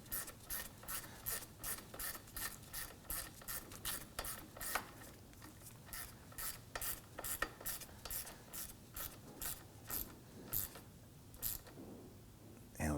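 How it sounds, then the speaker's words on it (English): A hand ratchet tightens the lower bolts of an AC condenser on a 2003–2014 Volvo XC90 3.2L, giving rapid, evenly paced clicking bursts, close and fairly quiet, with no talk. "Let's go ahead and snug down our lower bolts here."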